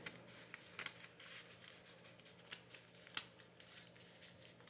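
Paper scraps, including a piece of piano sheet paper, handled for a junk journal: quiet close rustles, flicks and soft scrapes in irregular bursts.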